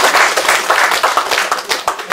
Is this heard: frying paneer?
no